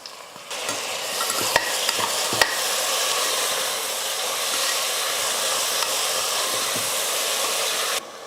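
Tomatoes and onions sautéing in a pan, a loud, dense, continuous sizzle with a couple of brief utensil clicks near the start, heard close up and alone.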